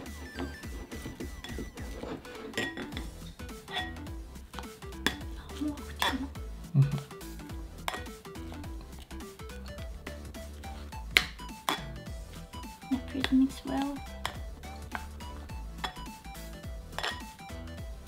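Miso soup ingredients being stirred in a pot, with light metallic clinks and scrapes of a utensil against the pot under ongoing conversation.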